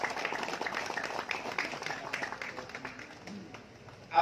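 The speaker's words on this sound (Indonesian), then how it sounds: "Tepuk tangan untuk Pak Kades Penggarit" Applause from a crowd at a waste processing facility inauguration in Penggarit village, Pemalang, uneven and moderately faint, with individual claps audible and fading toward the end.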